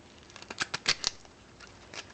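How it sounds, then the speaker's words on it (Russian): Knife or scissors cutting the stem off an artichoke, a quick cluster of crisp snipping and cracking clicks up close, fading into light rustling. "Сейчас надо ножку отрезать и положить в сторону."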